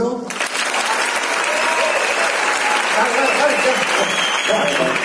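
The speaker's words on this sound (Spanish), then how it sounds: "cuando digamos 3, 2, 1, empezamos un aplauso, nada, 3 segundos, pero muy intenso" An audience at the Liga Endesa 2018-19 presentation event bursts into loud, intense applause after a brief quiet start, a dense sustained clapping roar lasting several seconds, with a voice briefly heard underneath.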